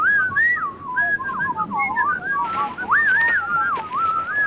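A man whistles a tune, a wavering, sliding melody with shifting pitch that plays continuously and prominently for several seconds over faint background noise, with no talking.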